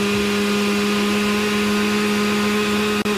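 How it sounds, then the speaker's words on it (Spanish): An Oster blender whirs loudly and steadily as it blends strawberry juice, a constant motor drone with a brief dip near the end. "¿Se han dado cuenta la potencia que tiene mi licuadora?"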